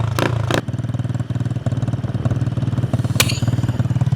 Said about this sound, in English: We're gonna hit a little test first with a fire up with a little nitrous shot just to hear.